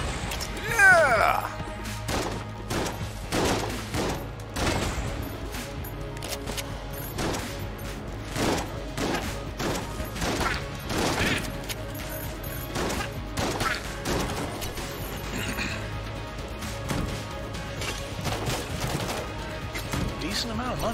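Gunfire in Enter the Gungeon pops in quick, steady volleys for a long stretch, mixed with crashes and hits, while a player talks intermittently.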